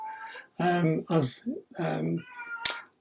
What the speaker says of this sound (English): the cat outside the door has decided he wants to come in